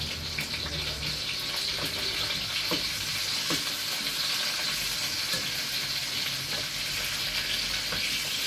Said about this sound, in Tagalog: Gigisa natin siya.